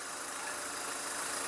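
A Hyundai Accent with a 1.6 engine idles with the air conditioning running, a faint, even mechanical hum with a steady low pulse and no voices.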